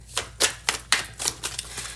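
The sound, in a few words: shuffling a deck of tarot cards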